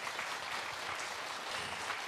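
A concert audience at a Korean traditional music performance applauds, steady close clapping from many hands for a couple of seconds.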